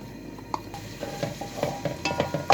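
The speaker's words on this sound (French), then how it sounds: "je verse de l'huile dans une cocotte, j'y ajoute mes oignons nouveaux" Spring onions frying in oil in a cooking pot, with a soft sizzle under repeated light stirring scrapes and taps that grow louder toward the end.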